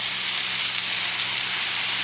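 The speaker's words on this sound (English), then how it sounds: "we're just sauteing it in some butter and some oil and adding a little bit of Greek seasoning to it" Red snapper sautéing in butter and olive oil with Greek seasoning, giving a steady, close, loud sizzle that holds evenly throughout with no talking.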